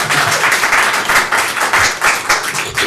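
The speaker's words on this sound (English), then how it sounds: "it all right if we give you a round of applause?" An audience claps in a burst of loud, close, slightly uneven clapping that carries on steadily without talk.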